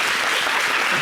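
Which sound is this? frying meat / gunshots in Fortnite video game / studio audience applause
studio audience applause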